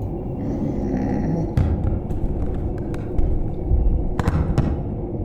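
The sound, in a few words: footsteps in a video game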